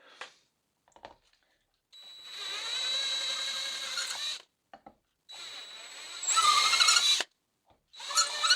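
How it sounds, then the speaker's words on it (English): Power drill with a 6mm bit drilling a hole in a guitar pedal enclosure, several whining bursts of a few seconds each, close and loud, with short quiet gaps and small clicks between. "this is a 6mm drill and won't go through."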